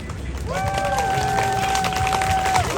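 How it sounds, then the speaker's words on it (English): A street festival audience at the Edmonton International Street Performers Festival claps and cheers, with quick rapid clapping under rising shouts and whoops, loud and sustained with voices mixed in. "the faster you clap, the louder you cheer, the faster I'm gonna do it"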